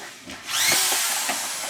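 A power drill drives screws into a 4 foot sheet, its motor whine rising after a short pause and then holding a loud, steady, close buzz to the end.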